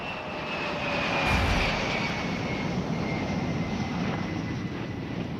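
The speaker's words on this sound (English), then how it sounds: "it is the sound of Blackbird pilots returning from the Middle East after a grueling 10-hour mission" A jet aircraft roars steadily overhead, a loud continuous rumble with a thin high whine, swelling slightly early on then holding constant.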